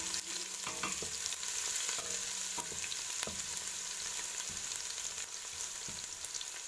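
Garlic browns in hot oil for Kenyan pilau while a spoon stirs the pan, giving a dense, even sizzle with scattered scraping knocks, close and steady with no talking.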